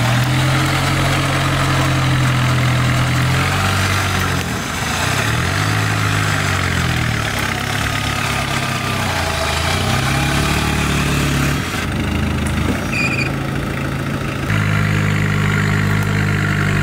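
A 4x4 micro van runs its engine while winching itself toward a tree, a loud steady idle with low rumbling and wavering pitch as load shifts, a whining winch tone and brief clicks near the end.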